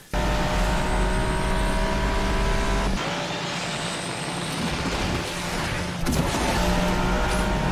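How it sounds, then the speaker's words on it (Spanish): A Ferrari engine revs in the racing video game Asphalt 8, a loud, sustained drone that shifts pitch as it changes gears, dips briefly in the middle, then surges back up. "creo que esos sonidos son exactamente los mismos sonidos del Ferrari en Asphalt 9"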